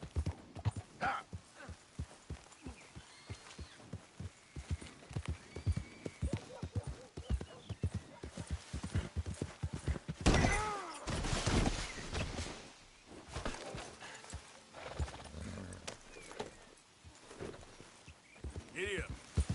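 Horse hooves beat in a quick steady clip-clop rhythm while galloping in the video game Red Dead Redemption 2, with a spoken voice over the hoofbeats and a louder rushing burst midway.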